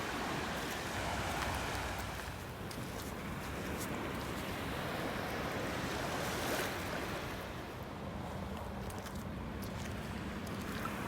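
Continuous wash of ocean waves at the water's edge near low tide on a beach, a dense steady roar with surging swells and no voices.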